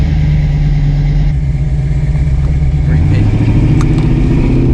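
A car engine runs just after starting, a steady close rumble that rises slightly in pitch partway through, with a few faint clicks over it.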